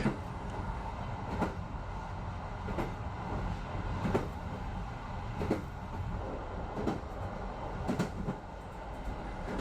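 Train wheels clack rhythmically over jointed rails, regular knocks recurring above a continuous rumbling roll, heard from inside a moving carriage on the Gliwice–Bytom line in Poland.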